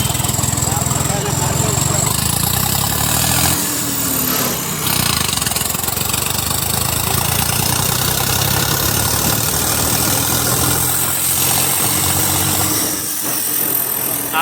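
A Swaraj 855 4x4 tractor with a turbo runs at a steady idle, its loud, continuous engine drone rumbling close, with brief dips in the middle and near the end as voices talk over it.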